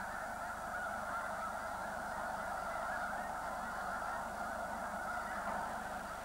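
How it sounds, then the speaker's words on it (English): A large flock of snow geese honks without pause, wintering birds in the Rio Grande Valley, a dense, continuous chorus of overlapping calls at steady volume with no voices. "It draws hordes of northern birds such as snow geese, ducks, and sandhill cranes"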